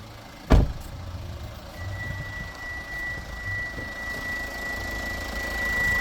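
A Kia Sorento engine runs steadily at idle with the hood open, a low even hum with a thin whine on top and one sharp click near the start.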